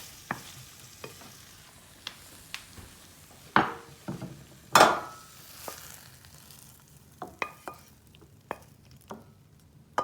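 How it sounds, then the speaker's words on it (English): Cooked Japanese eggplant stir fry with miso being scraped and spooned from a pan into a serving dish, heard as scattered clinks, scrapes and taps of utensil against cookware, with a couple of sharper knocks near the middle. "now we're gonna put it into our serving dish"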